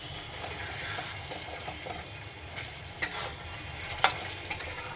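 Katla fish kalia, a Bengali-style curry, bubbles and sizzles softly in a pan while garam masala is sprinkled over and gently stirred in, with steady low frying noise and a few light utensil scrapes.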